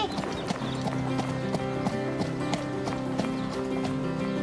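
Horse cantering at a steady collected pace in a riding arena, hoofbeats thudding in an even repeating rhythm, close and fairly loud over a continuous background.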